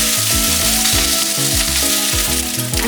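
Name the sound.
rice being stir-fried for egg fried rice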